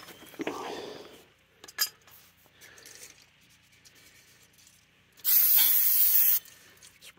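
Aerosol brake cleaner sprayed onto the brake parts of a Dodge Charger, a loud hissing blast of about a second after clinks of tools and metal in a quiet garage.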